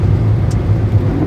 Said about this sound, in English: has the 126 engine in it and the gearbox, so it chugs along quite nicely